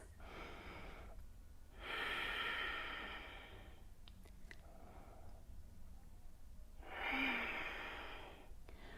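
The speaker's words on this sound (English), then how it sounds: "Deep breaths." Slow, deep breathing during a vinyasa sun salutation yoga practice, with two or three long, airy inhales and exhales rising and falling close to the mic against a quiet room.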